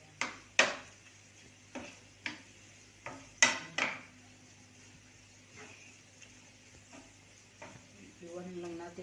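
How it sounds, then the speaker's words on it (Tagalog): A utensil stirs and mixes into rice in a frying pan with sautéed onion, giving sharp, irregular scraping knocks against the pan, close and fairly loud, before a voice starts speaking near the end. "Ihalo na to sa aming humaya."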